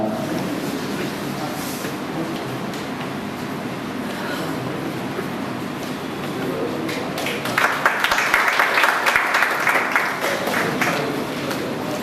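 An audience claps together at a seminar on the Kachchh water issue in Bhuj, a steady wash of applause that swells louder and denser toward the end, with no talk over it.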